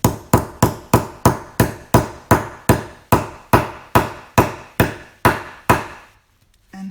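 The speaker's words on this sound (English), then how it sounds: "And hit with your hammer." Hammer striking a special tool resting on a heavy wooden box, about fifteen sharp, evenly paced blows with short ringing decays, loud and close, then stopping.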